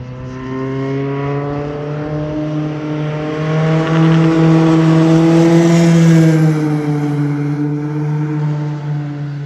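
An LMP2 prototype race car accelerates onto the circuit's straight, its engine note climbing steadily through the revs, loud and sustained before easing slightly near the end.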